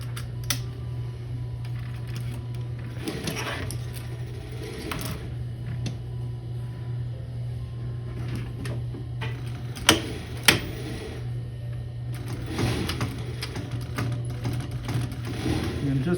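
A sewing machine stitches slowly over a thick seam in a blanket coat, a steady low mechanical hum with faint ticking and a couple of sharp clicks, with quiet speech now and then.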